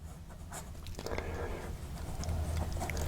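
Soft, papery scratching of a Wing Sung bent nib fountain pen writing on paper, quiet and close, with short strokes and light taps in an irregular rhythm.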